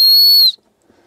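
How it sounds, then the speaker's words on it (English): A survival bracelet whistle blown once, a loud shrill piercing tone held for about half a second before cutting off abruptly into silence. "But the whistle,"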